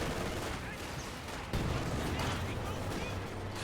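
Battle audio from the game Company of Heroes 2, with Russian infantry throwing flame grenades amid gunfire, a dense continuous roar of shots and blasts at moderate level with a heavy thump partway through.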